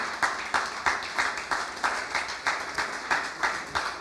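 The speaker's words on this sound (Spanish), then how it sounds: "Apláudale" A church congregation claps in steady rhythm, roughly three beats a second, moderately close and even, with no speech over it.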